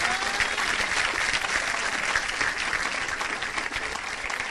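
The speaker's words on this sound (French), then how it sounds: "On peut vraiment acclamer Jésus-Christ." A church congregation applauds Jesus Christ with steady, dense clapping from a large crowd, sustained and loud throughout.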